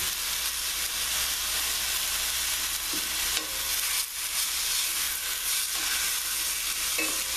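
Freekeh with vegetables and whole cranberries sizzles steadily in a hot pan, with occasional stirring scrapes over a constant frying hiss, close and even, with no talking.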